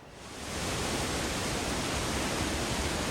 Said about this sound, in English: The sound and visual delight of falling water is one of the great joys of Rainier.